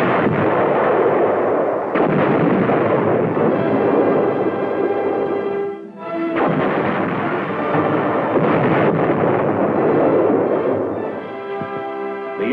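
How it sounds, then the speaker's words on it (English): An M60 Patton tank fires its 165mm cannon in a heavy, booming blast, then loud rumbling and rolling echoes continue almost without a break, with a brief dip partway through and no speech. "A 165mm cannon, designed to fire at short ranges with extreme accuracy,"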